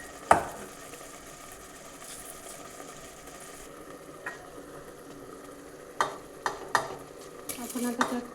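Cashews tossed into a hot pan for palak pulao, giving a soft steady sizzle with a sharp clatter at the start and several brief scraping stirs toward the end.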